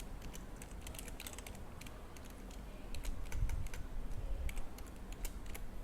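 Rapid keyboard typing while coding, with bursts of quiet, close clicks over a steady low hum, picking up slightly in the second half.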